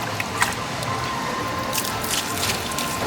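Coconut water splashes onto a leg with soft, wet squishing and spattering bursts over a steady outdoor hiss, close by and fairly quiet.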